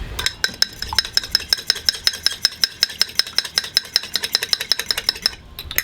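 A fork whisks briskly against a bowl for a chorizo breakfast burrito, giving about two dozen quick, evenly spaced clinks close by and alone, then stopping just before the end.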